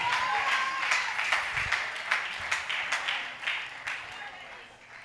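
A church congregation clapping during a French-language worship service, a series of sharp rhythmic handclaps over a murmur of voices and background sound.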